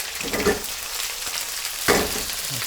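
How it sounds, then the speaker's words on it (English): Onion sizzling and popping in hot oil in a kadai, a close, continuous fry hiss broken by a few sharp pops and a brief stirring scrape. "we put the hard vegetables first, like for example onion. So as you can see, it's popping"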